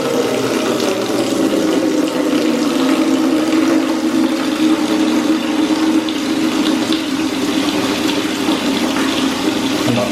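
Water runs steadily from an AO Smith instant water heater, a loud and constant close-up rush of flow that lasts throughout with no talking.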